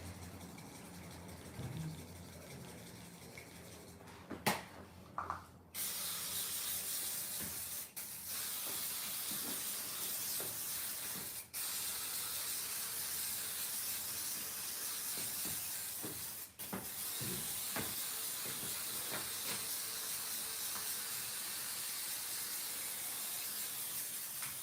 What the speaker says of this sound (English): I have to spray glue, spray glue just to make sure.